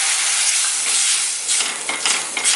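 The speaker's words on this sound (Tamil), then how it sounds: "அடுப்பை ஸ்லோ பண்ணிவிட்டு எண்ணெயில் இந்த பொடியை நல்லா வதக்கிக்கலாம்." Chili and coriander powder fry in hot oil over low heat for a methi seed (vendhaya) kulambu, giving a close, steady, loud sizzle that crackles a little more toward the end, with no voices.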